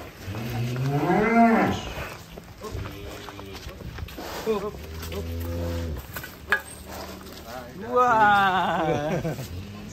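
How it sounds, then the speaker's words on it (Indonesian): Cattle moo loudly in a rural pen holding a large sacrificial bull, with several long, drawn-out calls close by. People talk between the calls. "Wih, sapi unik."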